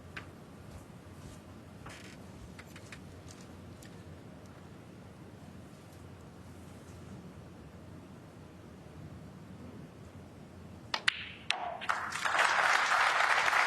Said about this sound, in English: Applause for frame ball.